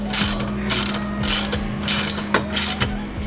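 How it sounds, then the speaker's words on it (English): A hand ratchet clicks in quick repeated bursts while tightening the bracket bolts on an aftermarket racing seat, with close, loud, evenly spaced strokes and no talk. "and then the nut, and tighten everything down."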